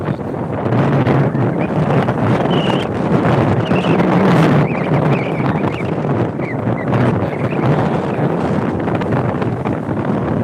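Strong gusts of wind off a rough sea buffet the microphone in a steady, roaring rush, with faint high chirps scattered through.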